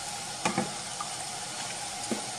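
Pastitsio sauce with nutmeg is stirred in a pan over a steady low sizzle, with a few soft spoon knocks and scrapes spaced through the short stretch, with no talking.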